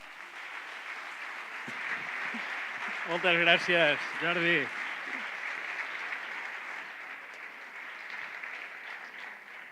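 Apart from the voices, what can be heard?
audience applause in a theatre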